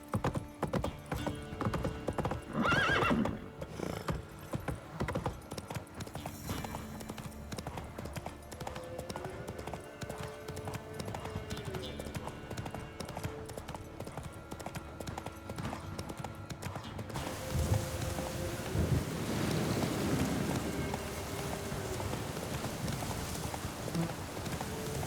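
Roach, a horse in The Witcher game, gallops with rapid rhythmic hoofbeats for a long stretch, a neigh breaking through once, steady and close with game ambience behind.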